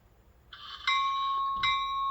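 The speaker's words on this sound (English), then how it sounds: "bell." An HO scale Rapido F59PH model locomotive's bell sounds a steady bright electronic ringing that rises from a faint start and holds on, close and clear with no talk.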